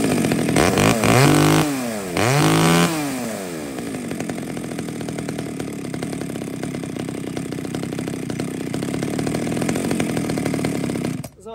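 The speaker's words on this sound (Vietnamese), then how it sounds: "anh em nào thích sử dụng em máy cưa xích Hitachi CS35ED ha" A Hitachi CS35ED chainsaw revs hard at first, its engine note sweeping up and down through a few throttle blips, then settles into a steady, loud running drone that cuts off abruptly at the end.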